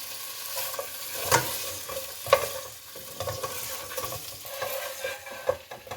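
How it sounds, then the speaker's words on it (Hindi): Soft, steady sizzling of ginger-garlic paste frying in oil, with a few sharper clinks and scrapes of a spoon stirring the pan; no voices. "1 टीस्पून लहसुन अदरक पेस्ट वो डाल दें और उसे लहसुन अदरक पेस्ट के साथ भून लें"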